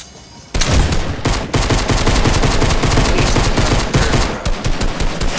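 Assault rifle gunfire in a video game, sustained loud bursts of rapid automatic shots that run nearly continuously after a short quiet opening, close and dominant.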